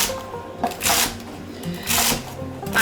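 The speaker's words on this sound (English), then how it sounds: "So let's dice up some veggies." A knife dices vegetables on a cutting board for turkey noodle soup, giving short bursts of rapid chopping that come in three clusters with brief pauses between them, close by.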